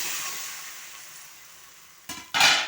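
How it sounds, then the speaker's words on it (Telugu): Tomatoes and tamarind fry in a pan with a soft, continuous sizzle that slowly fades. Two short louder bursts of sizzling or stirring come near the end. "ఇవి మటుకు బాగా ఫ్రై అవనిస్తా."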